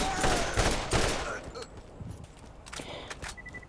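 Rapid bursts of gunfire in the video game Borderlands, sharp shots in quick clusters early on, then thinning to sparser cracks and small game effects, moderately loud throughout.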